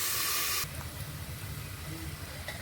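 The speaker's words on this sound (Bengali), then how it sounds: "ওই তেলেতেই আমি আলুগুলো ভেজে নেব। চাপা দিয়ে একটু ভালো করে ভেজে নেব।" Potatoes fry in oil under a covered pan, giving a steady soft hiss and low bubbling that runs through the whole moment after a brief louder burst at the start.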